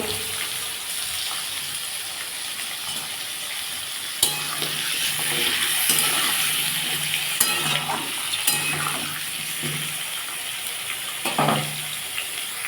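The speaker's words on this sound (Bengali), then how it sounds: "তেলের মধ্যে আমি আলু কুমড়ো টমেটো সব একসাথে দিয়ে দেবো একটু গাজর" Potato, pumpkin, tomato and carrot fry together in hot oil, giving a steady broadband sizzle with stirring clatter and scraping throughout, close and fairly loud, with no voices.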